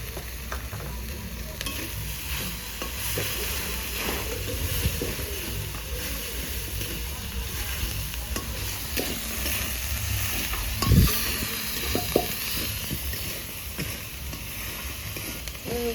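Green chillies sizzle and crackle in hot oil in a pan while cooking egg curry, a steady loud frying hiss with occasional stirring scrapes throughout.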